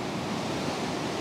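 Ocean waves break on a rocky shore in Indonesia, filling the air with a steady, loud, broad roar of surf and some wind noise, with no voices.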